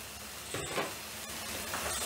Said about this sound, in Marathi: हे पण मसाल्यामध्ये आपण परतून घेतोय